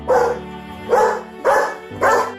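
A protective puppy barks four times in a steady rhythm, loud and close, each bark sharp and harmonic with no talking.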